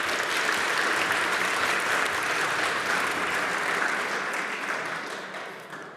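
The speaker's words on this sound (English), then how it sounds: "Can we give them another round of applause?" An awards-ceremony audience applauds steadily with dense, even clapping across a large hall, which gradually thins and fades toward the end.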